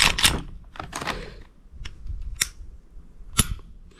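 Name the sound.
Glock 43X pistol trigger reset click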